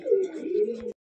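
A Kalankar pigeon gives a single close, throaty coo, a low rolling call about a second long that cuts off abruptly.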